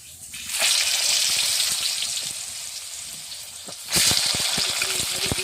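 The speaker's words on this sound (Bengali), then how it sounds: "তো এইভাবে আমি ঢাকনা দিয়ে দিয়ে আলুটা ভালো করে ভেজে নেব" Potatoes frying in oil in a covered pot while Bengali handi chicken is cooked, a steady sizzle that jumps louder as the lid is lifted, with scattered crackles and pops.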